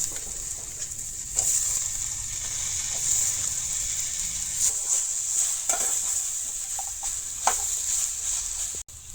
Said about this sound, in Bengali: কাটলের বীজ দিয়া পাট শাকে একসঙ্গে বাজা হইব